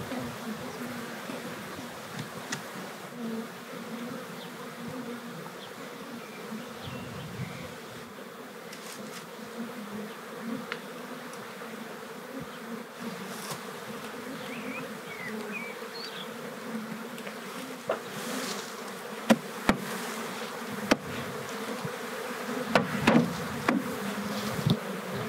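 Honey bees buzz around an open beehive with brood, a dense, steady drone of many insects nearby, with occasional sharp knocks and clicks from handling the hive.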